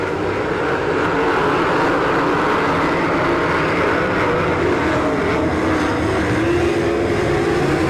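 Sprint cars race on a dirt oval in an All Stars versus NCRA event at Saint Clairsville, Ohio, making a loud, continuous, roaring engine wash from the pack with no break.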